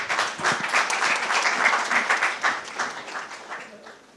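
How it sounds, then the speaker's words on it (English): Audience applause welcoming a speaker onto the stage at a national summit session in New Delhi: steady, dense clapping from a sizable crowd, sustained and even throughout with no voices over it. "A big round of cheer for the next speaker, Mr. Sudhir Mishra."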